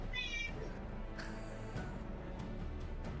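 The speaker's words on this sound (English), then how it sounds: "The fucking cat." A cat in a room lets out a short, high meow near the start, faint against a quiet indoor background with a few soft clicks afterward.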